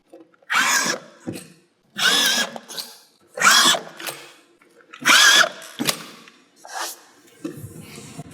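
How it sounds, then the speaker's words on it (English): Power drill driving screws through curved GIB plasterboard into steel studs, heard as about five short, loud whirring bursts separated by brief pauses, close by and without talk. "you want to start screwing onto the flat surface"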